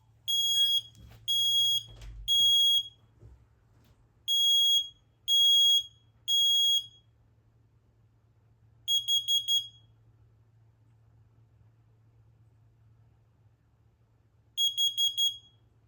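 Smoke alarm from a large home collection being tested, sounding loud repeated bursts of piercing triple beeps with pauses between groups, over a low steady hum, with a few faint handling knocks early on.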